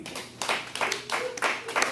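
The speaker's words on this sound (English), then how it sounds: "So let's clap him up." A few people clap together at a youth gathering, close and uneven, in loose bursts of several claps about twice a second.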